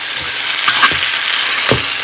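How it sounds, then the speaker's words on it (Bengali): Potatoes and broccoli fry in an iron wok with a steady, close sizzle, and a few sharp stirring scrapes and clinks land on top of it. "ব্রোকলি দিয়ে আলু ভাজা করছি"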